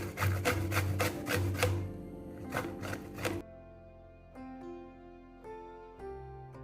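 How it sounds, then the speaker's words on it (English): Bottle gourd (lauki) is rubbed against a kitchen grater in quick, rhythmic rasping strokes, close and loud, then gives way to quieter background tones. "Now get this vegetable in grating."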